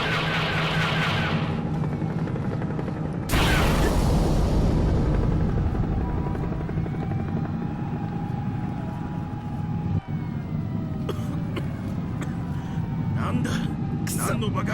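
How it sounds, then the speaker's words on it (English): A massive battle in an Ultraman video game, where a sudden loud explosion bursts out of a constant roaring, siren-like din that rumbles on afterward, with a voice talking over the action. "there's a massive battle going on, we've got an explosion"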